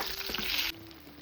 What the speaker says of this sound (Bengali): এখন বেগুনগুলো ভেজে নিচ্ছি।